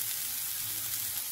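Potatoes and carrots frying with onion in a hot pan, a soft steady sizzle heard close up, continuous and without talk.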